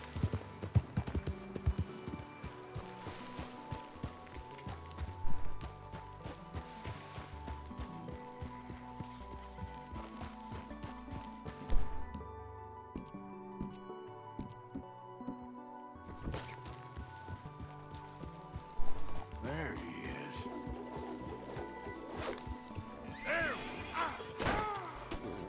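Horse in Red Dead Redemption 2 game, with hooves clip-clopping steadily and brief neighing amid game ambience and music, no talk.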